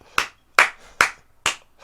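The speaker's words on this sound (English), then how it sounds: "Let's give him a round of applause." Four separate sharp hand claps spaced roughly half a second apart, close and crisp against a quiet background, more like a single person clapping than a full audience.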